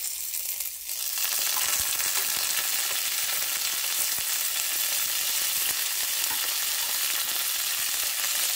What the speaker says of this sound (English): And saute it for some time.